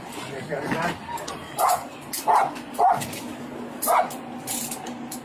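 A puppy lets out four short, sharp barks spaced unevenly over several seconds, fairly close and loud, while people talk nearby.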